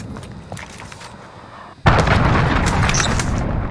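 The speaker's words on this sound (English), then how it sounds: "Enemy cruise missile!" A cruise missile detonates in a military shooter video game, a sudden loud blast about halfway through that gives way to a sustained heavy rumble and crackle, over an already noisy battlefield.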